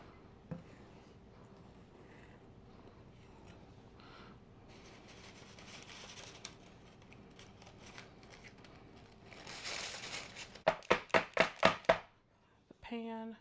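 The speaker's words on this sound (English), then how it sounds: "I was tapping them to get some of the air out and to get it down into the pan" A pan of batter rapped against a counter to knock out air bubbles, six quick firm taps in a fast row near the end, following quieter kitchen rustling.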